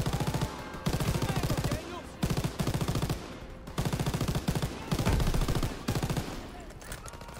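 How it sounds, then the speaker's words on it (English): MG42 machine gun in Call of Duty WW2, rapid loud bursts of automatic fire in repeated volleys of about a second each, separated by brief pauses amid battle noise. "I got an MG42"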